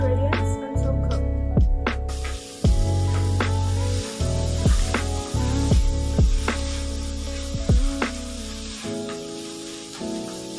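Tofu and bean sprouts stir-fry in a hot pan with a loud, steady sizzle, broken by repeated scraping strokes of a spatula against the pan.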